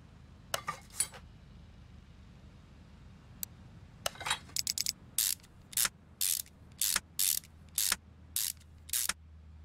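Ratchet wrench tightening long bolts in the Car Mechanic Simulator 2021 video game, irregular bursts of sharp metallic clicks growing into a regular pulsing series of ratcheting strokes, clear and close with no talking.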